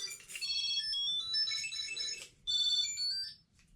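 A Tile Bluetooth tracker tag rings a bright electronic chirping melody in short repeated bursts, loud and close, pausing briefly before starting again.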